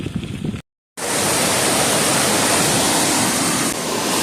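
River flowing beneath a bridge on a cycling tour route near Burney, California, a loud steady rushing of water that fills the clip after a brief cut to silence.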